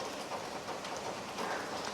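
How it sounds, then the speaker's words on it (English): Steady, dense patter of monsoon rain hitting an open-air parked car's body, a continuous broadband hiss with no voices. "again it has started to rain"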